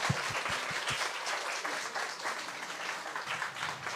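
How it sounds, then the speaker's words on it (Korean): A church congregation at a Sunday evening worship service breaks into loud, sustained applause, a dense wash of many hands clapping together that fills the room throughout. "박수 좀 한번 하나님께."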